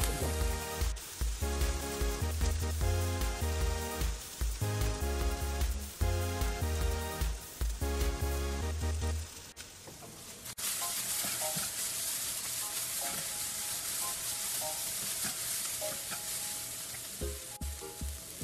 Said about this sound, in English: Keep stirring and make sure that your garlic doesn't burn.